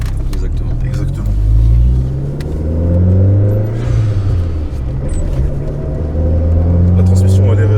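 A Fiat 500 Abarth rally car's engine rumbles and revs through a test drive on the Touquet circuit, steady low drone rising and falling in pitch, with people talking over it inside the cabin.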